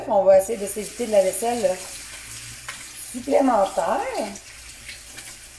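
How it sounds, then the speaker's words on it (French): Ground beef fries in a pan while a wooden spoon stirs it, a steady sizzle and scraping running underneath someone speaking French in bursts. "je vais prendre ma cuillère de bois pour le bœuf"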